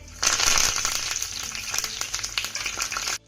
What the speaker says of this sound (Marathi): आता यामध्ये आपल्याला अर्धा चमचा मोहरी घालायची आहे